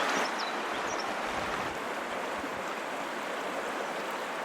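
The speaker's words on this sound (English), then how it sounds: "We'll just follow the river right on in." A desert river stream flowing in a continuous broad rush of water, steady and fairly near, with a few faint bird chirps early on.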